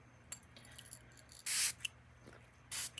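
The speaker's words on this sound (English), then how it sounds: "You hear me spray my hands to cleanse them and any and all negative energies." Hands are misted with a cleansing spray, two distinct hissing bursts from a pump spray bottle separated by a pause, close and clear over quiet room noise with small handling clicks.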